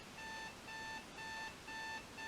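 A 1990s RCA clock radio alarm gives out five evenly spaced electronic beep bursts, each about a third of a second long with a short gap between, clear and close in a quiet room.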